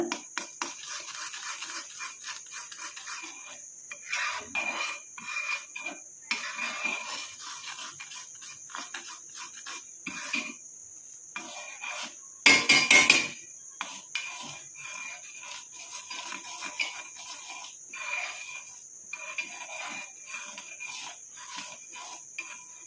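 Amla gooseberry powder hair mix being stirred in a bowl, soft rubbing and scraping strokes repeating in uneven bursts, close and fairly quiet, with one louder scrape partway through.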